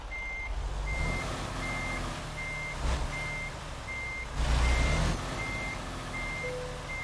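In American Truck Simulator, a reversing truck's backup alarm beeps at a steady even pace, about ten beeps, over a rumbling engine that surges a couple of times.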